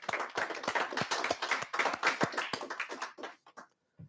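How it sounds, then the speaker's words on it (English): Audience at a 2020 prep school awards ceremony claps, a brisk ragged burst of hand claps that fades out over the last second. "Let's give them a round of applause."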